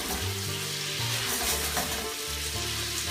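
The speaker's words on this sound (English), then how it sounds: "Once they sear a little bit around, then you can start moving them." Meatballs searing in a pan over a raised flame, a steady close sizzle and crackle of frying with faint shaking movement.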